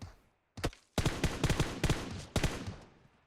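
Gunfire in the video game PUBG Mobile: a single shot, then a rapid string of loud close bursts in quick succession, fading out at the end.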